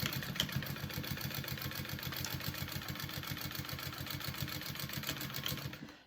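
A sewing machine stitches a second row of stitching on a bag, running at a steady, fast mechanical chatter for six seconds without a break, with nobody talking.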